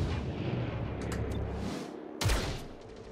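Gunfire in the video game XCOM: Chimera Squad: heavy booming shots rumbling over a sustained low roar, ending with one sharp, loud blast near the end.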